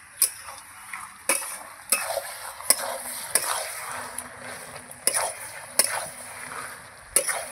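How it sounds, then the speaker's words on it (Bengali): Malabar spinach (pui shak) cooking down in a pan gets stirred, with a soft sizzle underneath and a series of sharp spatula taps and scrapes against the pan at irregular intervals, close by and with no speech. "আমি একটু আবার নেড়ে দিলাম, না হলে তলায় লেগে যাবে"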